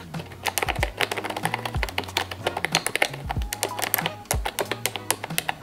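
Clicky mechanical computer keyboard with colorful keys being typed on steadily and rapidly, close and loud, with dense irregular key clacks and a few low thumps, no talking.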